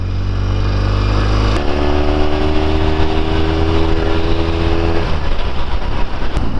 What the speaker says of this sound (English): Now let's go take this thing on the highway and see what it feels like to cruise on this bike.